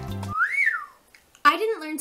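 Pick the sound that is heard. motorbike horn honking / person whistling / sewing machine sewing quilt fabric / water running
person whistling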